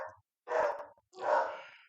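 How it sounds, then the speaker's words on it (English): A small dog barks angrily in two loud, harsh bursts separated by a short pause, close to the listener with no talking. "that little dog is getting quite angry"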